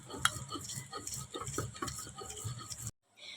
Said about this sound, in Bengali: পেঁয়াজটা বাইটা নেব